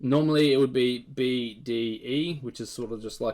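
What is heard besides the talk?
No distinct noise like a dog, phone or traffic.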